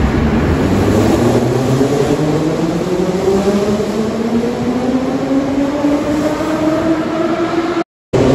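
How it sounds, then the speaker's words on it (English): A modern Moscow train runs loudly nearby, its electric motors whining in tones that climb steadily as it speeds up over the steady rumble of the carriage. "they're not so loudly as old trains, so it's really nice"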